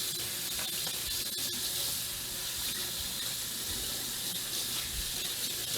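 Warm water runs steadily from a tap, a soft continuous hiss and splash held at an even, moderate level throughout.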